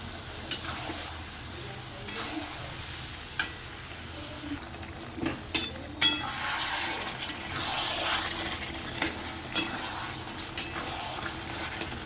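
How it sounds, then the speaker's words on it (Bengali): Spiced egg masala with potatoes and tomato sizzles in a pan under steady frying hiss, with repeated sharp clicks and scrapes of a spatula stirring against the pan throughout. "ডিমের মশলাটা কষাচ্ছি।"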